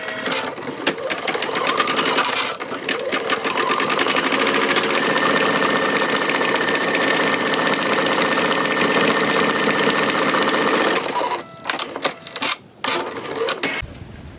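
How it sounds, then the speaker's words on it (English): A sewing machine stitches a fabric face mask, running in one long steady whirring burst for most of the span before stopping and starting in a few short spurts near the end, close and loud with no talk. "And now we're going to stitch that down."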